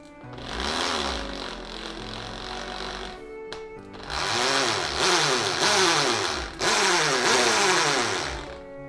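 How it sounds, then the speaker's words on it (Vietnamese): A Makita hammer drill runs in concrete drilling mode with a loud, steady hammering buzz in two long bursts split by a short pause, the motor pitch rising and dipping as the trigger speed changes. "Test chức năng khoan bê tông nha nè."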